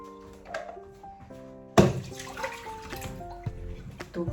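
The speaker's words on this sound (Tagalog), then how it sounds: "Tubig niya na nahigop niya." Water collected in a salt-filled humidifier is poured out into a container, with soft trickles and drips, a sudden splashy gush partway through, then uneven sloshing and dribbling close by.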